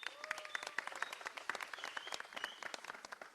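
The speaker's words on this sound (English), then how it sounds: "let's give him a round of applause" A crowd claps steadily in a loose, dense round of applause for the coach of Namibia's Brave Gladiators, the COSAFA champion team, at their airport arrival, with a few high whistles or cheers over the clapping.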